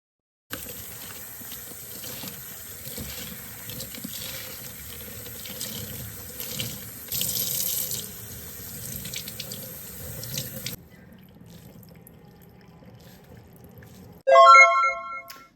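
A tap runs steadily into a sink for about ten seconds, loud and close, as hair dye is rinsed out at home, then cuts off leaving quiet room tone before a short electronic ringtone-like chime.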